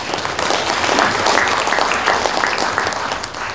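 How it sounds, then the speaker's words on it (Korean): A ceremony audience breaks into loud, sustained applause, dense clapping filling the hall for several seconds before beginning to taper off. "박수로 축하합시다."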